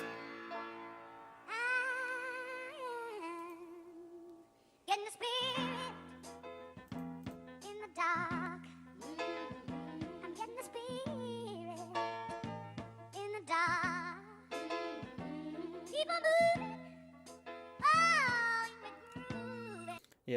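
Pitched-up, looped and chopped song sample, with high, sped-up vocal phrases over a bouncing, repeating bass line, moderately quiet and without anyone talking over it.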